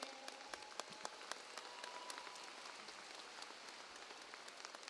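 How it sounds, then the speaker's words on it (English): Sustained applause from a crowd at a high school graduation ceremony in Cedar Rapids, a dense steady patter of many hands with sharper individual claps popping out, filling the whole stretch at moderate level without any voices. "Could we just give a big round of applause to our students tonight, to our performers?"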